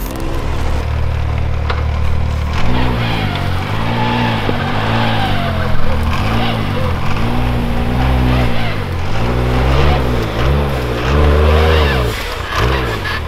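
Can-Am Maverick X3 side-by-side climbing over rocks, its engine droning loud and close with repeated rising and falling revs as the throttle works the climb.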